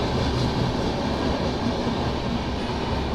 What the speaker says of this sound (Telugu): ఏం ట్రైన్ చూద్దాం, ఇది యశ్వంత్పూర్ హజరత్ నిజాముద్దీన్ కర్ణాటక సంపర్క క్రాంతి